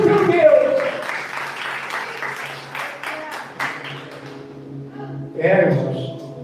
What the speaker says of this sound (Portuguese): Dê palmas para o nosso Senhor.